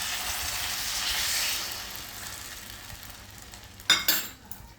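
Cornflour slurry stirred into chilli garlic chicken in a pan, giving a steady close sizzling hiss that eases off, then a few sharp clinks of the utensil against the pan near the end.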